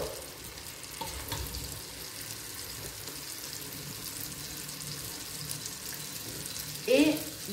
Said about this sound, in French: Mélanger un peu de temps en temps quand même dans les légumes qui sont en train de suer.